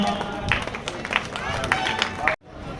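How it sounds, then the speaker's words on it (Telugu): An audience claps at the prize-giving of a Rotary Club Sankranti rangoli competition, scattered clapping mixed with crowd chatter and a voice over it, stopping abruptly. "అందరు క్లాబ్స్ అండి"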